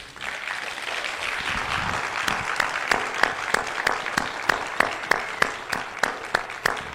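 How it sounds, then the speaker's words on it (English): A crowd claps in a sustained round of applause, with a few sharp, louder claps standing out in a steady rhythm over the general clapping. "please give a loud round of applause and respect to Mutabaruka"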